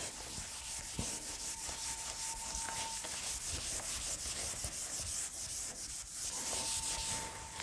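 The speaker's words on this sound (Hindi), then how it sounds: "एक बार इसको रब करके ज़रा मैं यहाँ पर बता देती हूँ" A board is being wiped clean with a steady, continuous rubbing that sweeps back and forth for several seconds, close and fairly loud, during a biology class lesson.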